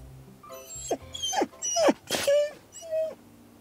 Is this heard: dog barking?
yes